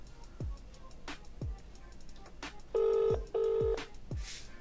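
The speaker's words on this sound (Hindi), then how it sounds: "तो अभी दोबारा से कॉल लगाते हैं" A phone call rings out twice in an outgoing ringback pattern, two distinct electronic tone bursts in a row, amid a quiet background of sharp clicks and faint ticks, with no voices.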